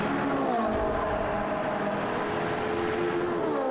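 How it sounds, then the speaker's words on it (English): GT race cars at Monza during qualifying, a steady, loud engine drone from several cars whose pitch slowly shifts as they pass and circulate, with no gaps. "So the cars now, John, make their way back to the pit lane"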